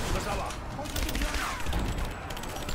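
Gunfire in the video game Rise of the Tomb Raider, a dense, continuous volley of shots and booms throughout, with game noise and some voice underneath.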